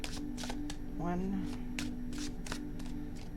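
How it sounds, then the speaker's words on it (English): Tarot cards being shuffled during a reading, a run of crisp riffling bursts close up, with a voice talking throughout. "2 shuffles."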